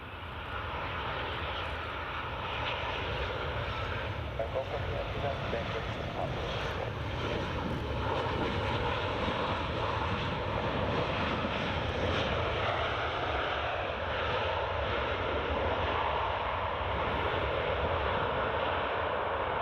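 Airbus A380 engines at Glasgow Prestwick Airport, a continuous roaring jet drone with a broad whine holding steady for the whole stretch, fairly distant and slightly buffeted by wind, no voices.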